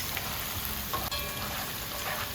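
Chopped onion and green vegetables sauté in a pan for a veggie sauce, giving a steady, fairly quiet sizzle with a brief stir partway through and no voices.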